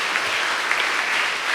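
A congregation at a Catholic confirmation Mass claps in a dense, steady burst of applause that fills the room.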